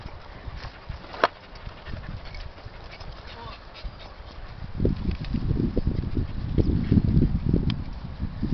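A female dog squeezed fully into a rabbit burrow gives muffled whimpers and scrabbling noises, with a sharp knock early on and louder low thumping in the second half.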